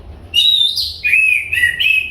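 A caged magpie robin (murai) sings close and loud, a run of clear, bright whistled phrases rising and dropping in quick succession with no other sound around it.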